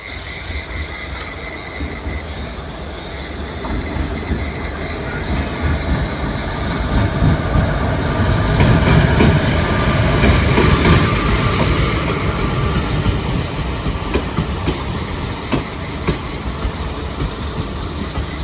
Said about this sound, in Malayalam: Mangalapuram Mumbai C S N T express വരുന്നുണ്ട്